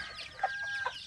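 Chicks and crossbred chickens on a Thai farm give a couple of short, close clucks and peeps over soft background noise.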